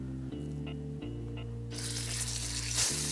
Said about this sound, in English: And then we'll go ahead and toss the short ribs in.